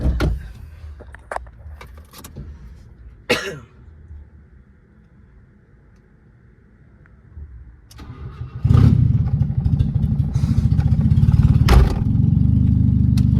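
A car with an ECCS downgrade starts after keys jangle and a few clicks and thumps, then settles into a loud, steady idle that holds for the last few seconds.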